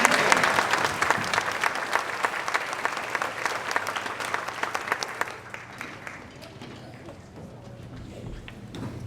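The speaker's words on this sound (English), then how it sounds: "So they deserve a round of applause for that." Parents at an elementary school spring concert applaud fourth graders, brisk clapping that fades out around midway, leaving a quieter room with faint movement and murmur.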